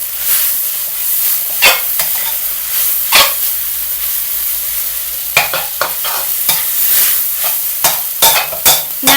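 Pad thai noodles stir-fry in oil with a constant loud sizzle, broken by repeated sharp scrapes and tosses of a utensil against the pan.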